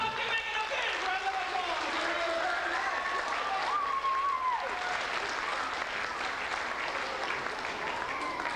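An audience applauds a young girl, Megan, after her part in a magic show trick, a continuous even wash of clapping with voices and cheering layered over it.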